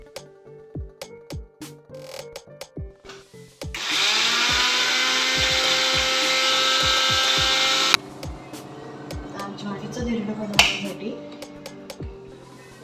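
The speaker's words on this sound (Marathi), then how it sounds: "हे सर्व आपण आता मिक्सरमध्ये टाकून त्याची आपण बारीक पेस्ट करणार" A kitchen mixer grinder whirs loudly for about four seconds while grinding garlic, green chillies, cumin and ajwain into a fine paste, framed by clicks and clattering handling sounds before and after.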